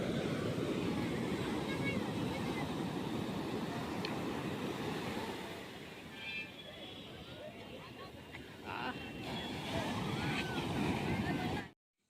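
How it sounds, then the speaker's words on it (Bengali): Ocean waves roll in and break one after another on the beach at Puri, a steady broad wash of surf close by, with wind buffeting the microphone throughout. "একের পর এক ঢেউ একটি একটি করে ঢেউ আমার কাছে চলে আসছে"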